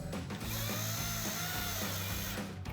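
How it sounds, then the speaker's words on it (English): A 7 mm socket on a power driver whirs steadily as screws are run back into the headlight housing of a 2015-2023 Mustang GT, loud and close with brief pitch dips, no talking. "these are all 7 mils, so we use our 7 mil socket"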